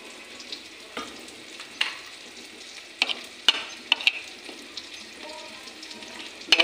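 Onions sizzle and fry in a pan for a fish curry, a soft steady crackle broken by sharp clinks and scrapes of a spoon stirring, close and moderately quiet.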